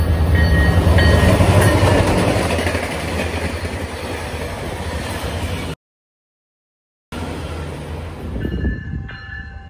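An Ontario Northland F40PH locomotive with an APCU rumbles along the rails, loud and close, then cuts out briefly before returning as a fading roll with faint tonal whine.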